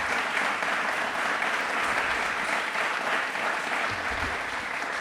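A studio audience at a Republic Day quiz show applauds loudly for the country, steady dense clapping that fills the whole stretch without pause.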